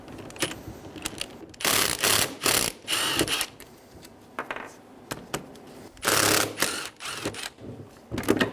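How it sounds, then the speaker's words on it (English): A ratchet with a 14mm socket removing caliper bracket bolts on a 2011-2014 Hyundai Sonata, heard as close bursts of rapid clicking separated by short pauses and faint handling noise. "Using a 14mm socket, remove the caliper bracket bolts."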